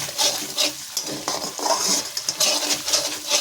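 Green chillies stirred in hot oil in a pan, with steady sizzling under repeated scraping clinks of a spoon against the metal, close and bright, no talk.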